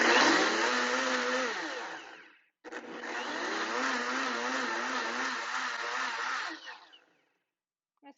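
Blender pulsing gluten-free Dutch baby batter in two loud, steady whirring bursts, the first about two seconds and the second about four seconds, separated by a brief stop, close with no talking.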